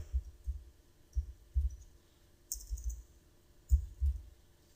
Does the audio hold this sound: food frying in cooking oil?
no